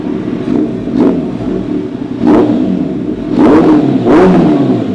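A Kawasaki ZX14R motorcycle with a new titanium exhaust idles with a deep, throaty burble, then revs up in several short, loud blips, each one rising and falling quickly.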